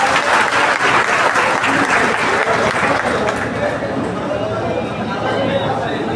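Sustained applause from an audience at a speech event, dense steady clapping at full strength for the whole stretch and easing slightly toward the end, with a murmur of crowd chatter underneath.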